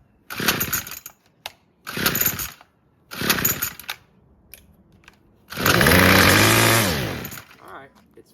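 A Craftsman weedwhacker's small two-stroke engine catches in three short bursts, each about a second, then roars steadily at full throttle with no choke for over a second before dropping away, loud and close.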